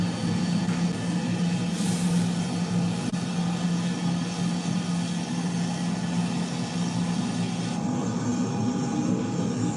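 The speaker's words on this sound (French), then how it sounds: "Le jet présidentiel vient d'atterrir." A presidential jet lands, its steady engine roar and low hum filling the whole stretch at a constant, fairly loud level with no pause.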